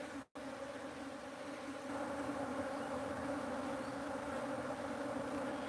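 Bees hum around a box at a bee sanctuary, a faint, steady buzzing drone after a brief dropout at the start, continuous and low with no talking.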